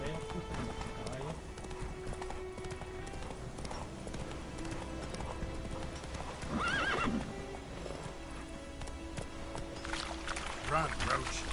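Roach the horse in The Witcher gallops with steady clip-clop hoofbeats and lets out a couple of neighs, all beneath continuous talking and game music.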